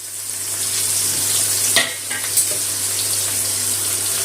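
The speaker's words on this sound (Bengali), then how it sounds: "পেঁয়াজটা একটু ভেজে নেবো তেলের মধ্যে।" Medium-sized chopped onion fries in hot oil after whole spices are tempered, for a dish of hilsa fish head with Malabar spinach, giving a steady, close sizzle with a couple of faint knocks from stirring.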